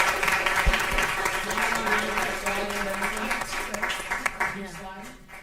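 Applause at a school board of education meeting for young people, a room of clapping hands that starts strong and gradually thins out, with voices talking over it.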